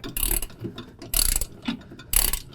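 A wrench loosens the nut on the deck belt pulley holder of a John Deere Z5 mower, giving three sharp ratcheting bursts about a second apart, close and clear with no talk.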